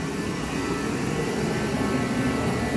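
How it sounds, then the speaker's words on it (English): A shop heater blows with a steady, loud, broadband roar that holds evenly throughout, with no voices over it. "Oh, I'm going to kill that heater."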